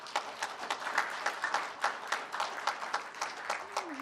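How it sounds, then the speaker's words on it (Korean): Applause from an audience at a book event, honoring the publisher who brought out a smuggled manuscript as two books; steady dense clapping throughout, with a brief voice-like tone near the end. "우리 도이훈 대표 박수를 보내주시기 바랍니다"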